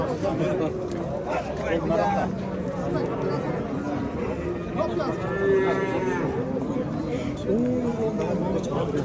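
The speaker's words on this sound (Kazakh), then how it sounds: "Мисалы, мынандай букалар дегендечи. Бири кара, бири ак." Bulls at the Osh livestock bazaar low and moo several times, with a long bellow midway and another near the end, over steady crowd chatter and people talking.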